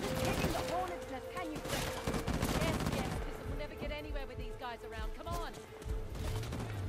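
Rapid gunfire in the action game Uncharted: The Lost Legacy, dense bursts of shots under a continuous game soundtrack, with a person talking over it throughout.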